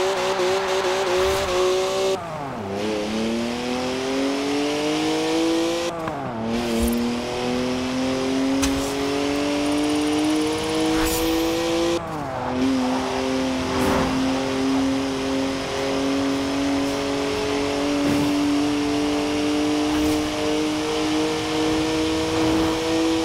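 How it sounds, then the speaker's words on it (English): Twin-turbo 3-litre straight-six car with 335 horsepower driving hard in Forza Horizon 4, a loud engine note climbing through gears with repeated shifts, sustained revving and brief tire squeal. "3-litre straight six, 335 horsepower, 2 turbos, as much sideways action as you like"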